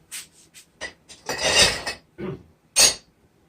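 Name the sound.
hand rasp filing wood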